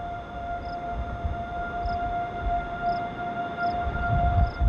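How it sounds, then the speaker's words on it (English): Civil defense tornado sirens wail continuously in the distance toward a town in Fritch, Texas, a steady faint tone over rumbling wind noise. "The sirens have been going off pretty frequently here."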